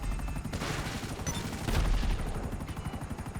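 Sustained gunfire in GTA V Online, a dense rapid rattle of shots running throughout with a brief louder burst midway, close and loud.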